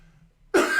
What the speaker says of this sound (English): Sorry, I'm not meaning to cough in your guys' ear.